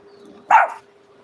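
A single short, sharp bark from a small female dog, close and fairly loud against a quiet background with a faint steady hum.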